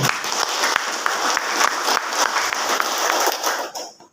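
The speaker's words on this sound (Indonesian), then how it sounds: "Nah, tepuk tangan untuk Amikom." An audience applauds in a steady, dense burst of clapping at an indoor event, sustained throughout and dropping off abruptly at the end.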